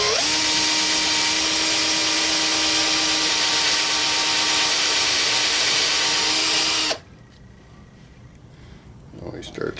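Power drill boring into a steel rifle barrel, a loud, steady whining drone held for about seven seconds before cutting off abruptly into quiet room tone.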